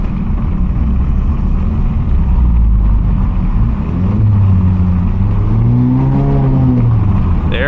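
A 2023 Mazda 3 Sport's engine rumbles steadily, then the exhaust note rises and swells as the car accelerates, loud and close, with no voices.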